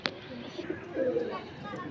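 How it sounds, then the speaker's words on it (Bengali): A male Punjabi pigeon gives a soft, low coo after a brief sharp click at the start, close by and faint, with a voice murmuring around it. "এটা নর পায়রা আছে"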